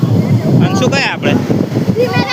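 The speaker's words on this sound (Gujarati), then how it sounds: "જો કેટલા મોજા ઉતરે." Sea at Dwarka on a windy shore, with a low rumble of waves and wind buffeting the microphone beneath people talking excitedly.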